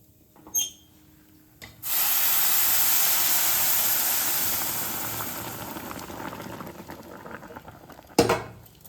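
Boiled milk spiced with sugar, cardamom and bay leaf is poured onto fried vermicelli in a pan, setting off a sudden loud bubbling hiss that slowly fades to a softer simmer, followed by a clatter near the end.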